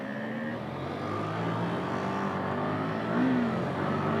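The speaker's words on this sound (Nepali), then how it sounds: "7वटा बाइक यहीँ छ एउटा बाइक चाहिँ अझै आउँदैछ" Several motorbikes rev on a cold mountain road climbing toward Resunga, a steady engine drone with rising pitch sweeps, mid-distance and moderately loud, without voices.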